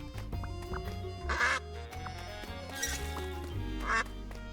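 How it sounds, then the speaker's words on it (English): A video game quack button sounds a duck's quack several times, short honking bursts spaced over a few seconds, set against a busy background of game audio. "Forgot about the fucking quack button."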